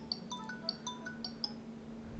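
A phone ringtone plays during a software walkthrough, a short repeating melody of bright chiming tones in a quick pattern, moderately loud over a steady low hum.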